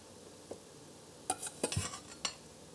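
A large serving spoon scrapes and clinks against a bowl while stirring crepe batter, a few sharp taps and scrapes scattered over a quiet kitchen background.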